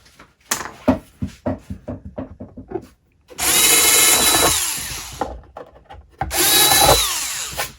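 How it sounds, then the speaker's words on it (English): Power drill boring a hole during a woodworking build, two sustained whining runs of about two and three seconds, loud and close, preceded by a series of sharp knocks and taps. "Now I'm going to drill a little bit of"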